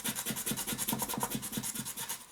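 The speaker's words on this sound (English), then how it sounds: "Now I'm using a piece of Scotch-Brite pad, or you could use like a Brillo pad, a scouring pad, even sandpaper." A Scotch-Brite scouring pad scrubs toner off the copper of a small circuit board in quick, even back-and-forth strokes, a close, soft rasping rhythm with no voices.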